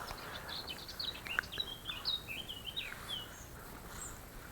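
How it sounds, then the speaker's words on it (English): Several birds sing and chirp at a moderate distance in the churchyard of St Peter & St Paul, Bardwell, Suffolk, bright twittering phrases scattered over a quiet outdoor background. "birds singing away"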